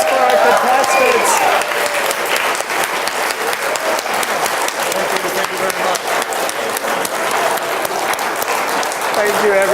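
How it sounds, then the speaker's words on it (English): Sustained audience applause for contestants at the close of a Christmas dinner skit show, loud and dense throughout with some cheering mixed in. "let's give a huge round of applause for our contestants"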